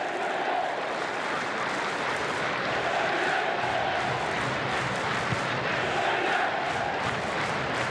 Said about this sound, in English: So the crowd really coming into the game now, getting behind the Phoenix.